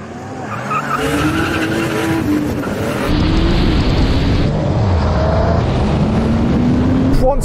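Old and new Porsche 911 Turbo cars launch side by side in a drag race, engines roaring loudly with tire squeal and skidding as they pull away, a voice speaking briefly over the noise.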